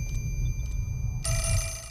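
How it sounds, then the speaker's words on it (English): Telephone ringing inside a hospital in the video game Fatal Frame 4, a steady electronic ring that starts partway through and rings continuously over a low droning background rumble. "So last time around we left a phone ringing"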